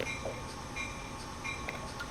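A moving train in the video game Train Sim World 2, a steady rolling rumble with faint high squeals and clicks running throughout, no talking.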